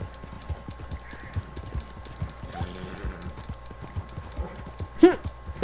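Horse hooves in Red Dead Redemption 2 as a frightened horse bolts: quick clip-clop hoofbeats patter near and moderately loud, with a sharp whinny-like burst near the end, while a voice talks over it.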